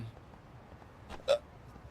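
A single hiccup, sharp and close, stands out against a quiet room with faint background noise, preceded moments earlier by a softer throaty burp-like sound.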